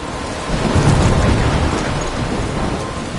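Thunderstorm in a PS4 video game: heavy, steady rain hiss with a deep thunder rumble swelling early and holding loud throughout, no voices.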